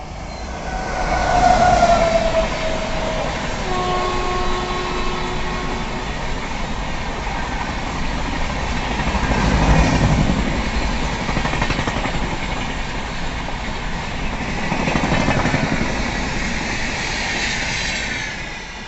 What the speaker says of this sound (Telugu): ట్రైన్ పోయింది. ఇది actually Peddapalli towards Warangal side వెళ్ళింది.